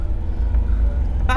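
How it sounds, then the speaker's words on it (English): A 1959 BMW Isetta bubble car pulls away with a steady, loud, close engine rumble, ending in a brief higher-pitched tonal burst. "A little bit of throttle required to pull away"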